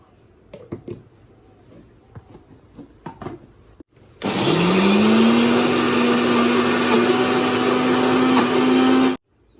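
Mixer grinder coarsely grinding soaked chana dal, starting abruptly after a few quiet clicks and knocks, then a loud, steady motor whine with a rising pitch that runs about five seconds before cutting off.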